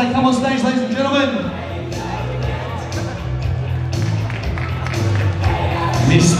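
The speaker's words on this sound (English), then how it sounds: "Give a big round of applause as they come on stage" At a bodybuilding contest, for the Ms Sports Model Rookie category, a crowd applauds and cheers with scattered whoops and shouts, the noise steady throughout and mixed with talk.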